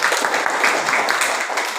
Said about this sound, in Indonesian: Terima kasih tepuk tangan untuk Agatha yuk.